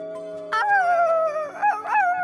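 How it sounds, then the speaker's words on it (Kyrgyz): A wolf in Alaska's Denali wilderness gives a long, wavering howl that starts abruptly and swoops down, then rises again in a second drawn-out cry, clear and fairly close with no talking. "Мен карышкырдын үнүн уктум"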